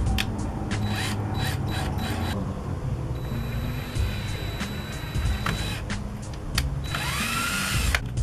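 A power drill bores mounting holes for a front splitter on a Subaru BRZ, whirring in several short bursts with a longer rising whine near the end, close by over steady background noise.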